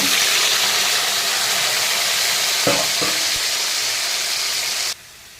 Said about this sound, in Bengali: এখানে আমি আলুটাকে ভেজে নেব।